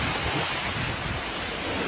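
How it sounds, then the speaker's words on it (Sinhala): Floodwater rushing past the collapsed Moragahakanda bridge, a loud, continuous roar of churning water with heavy low rumble and wind buffeting, steady throughout with no talk. "මේ හොඳම වතුර පාරක් මේ යන්නේ මෙතනින්"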